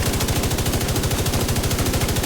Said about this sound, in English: So I'm just going to fire out all of these bullets here and then reload, and then show you the difference in rate of fire.